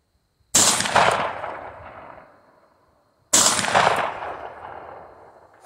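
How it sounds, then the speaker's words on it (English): A Panzer M4 shotgun fires two sharp, loud blasts about three seconds apart, each one trailing off in a long rolling echo across an open range, with no voices. "200 yards with a shotgun."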